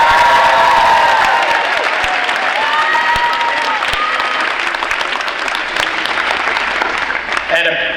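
Loud, sustained applause and some cheering from a graduation ceremony crowd, with a voice faintly audible over the clapping as it carries on.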